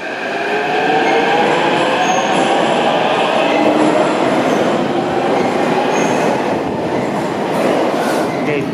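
Metro train running through Arsenal station, a very deep underground station on the Kiev metro, Ukraine: a loud, steady rumble of rolling wagons with a wheel squeal and faint rail clatter, continuous and close, without talk.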